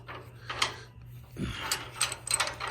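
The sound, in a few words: screw clamp being tightened against a log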